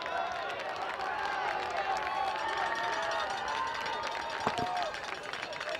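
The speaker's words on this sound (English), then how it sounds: "The crowd, as it is trying to get behind the Engineers" A college football crowd at an RPI Engineers game against Springfield College, a steady murmuring roar with scattered cheers and claps, heard at a distance beneath a commentator's voice.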